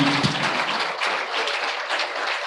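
Audience applause at an agreement signing ceremony: dense, continuous clapping from a seated crowd in a hall, steady and moderately loud without talk.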